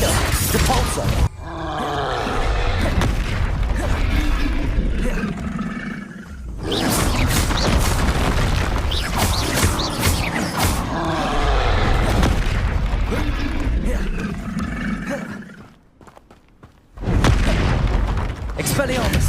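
Confringo and other combat spells are cast in the video game Hogwarts Legacy, producing loud, sustained booming blasts and roaring explosions that run almost continuously, with only a short quiet gap near the end.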